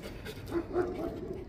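Pig dogs panting and whimpering close by at night in Caboolture, a short rough burst of breathy dog sounds with light whines.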